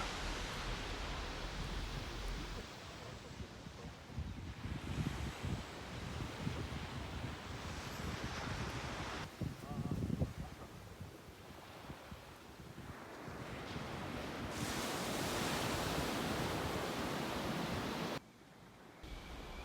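Steady ocean surf and gusting wind at an Australian beach, a continuous broad roar that swells and eases, with wind buffeting the microphone and no voices.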